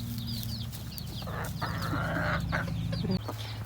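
A hen raises a commotion inside a chicken coop before laying an egg, giving repeated clucks and squawks over a steady low hum, close and fairly loud, with other fowl calling around her.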